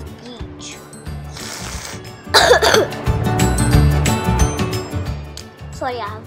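A person coughs and clears their throat a few times amid background chatter and clinking, with one loud burst of coughing partway through.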